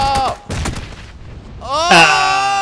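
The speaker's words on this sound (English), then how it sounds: "Eat that grenade" A loud grenade blast in PUBG, a sharp close boom with crackling debris, then quieter noise and a tonal game sound rising at the end.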